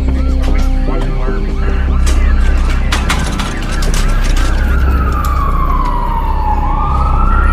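Ambulance and police sirens wailing together, a loud cluttered mix of horns and rising and falling tones with one siren sweeping down steeply near the end, close and continuous over heavy traffic noise.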